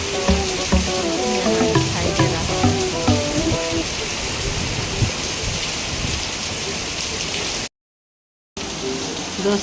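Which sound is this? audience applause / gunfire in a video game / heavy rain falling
heavy rain falling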